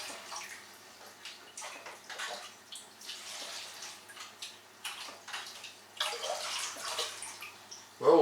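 Water splashes and trickles over a freshly repotted Renanthera orchid, irregular pattering bursts and runs of water close by, louder near the end, with no talking.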